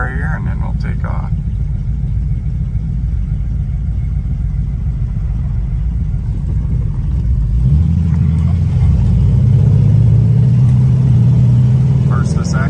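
A muscle car rumbles steadily up close as it pulls away, the engine note climbing and settling as it moves through the gears, with someone talking over the sound.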